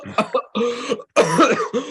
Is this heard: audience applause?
no